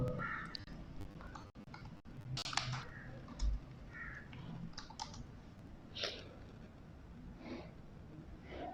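Soft, scattered clicks of typing on a computer keyboard, faint and irregular, with a few louder taps amid quiet room noise.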